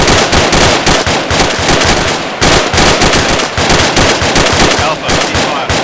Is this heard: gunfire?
yes